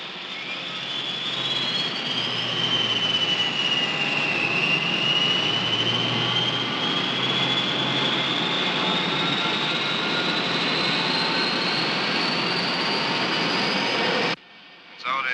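Airliner jet engines building to takeoff power, a loud sustained roar with a rising whine, steady for about fourteen seconds before cutting off abruptly near the end.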